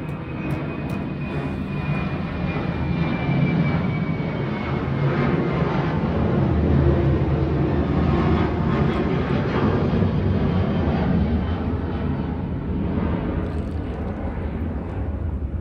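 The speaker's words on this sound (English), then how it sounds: "There's another plane." An airplane passes overhead as a steady, loud, broadband engine roar that holds for the whole stretch, with no talking over it.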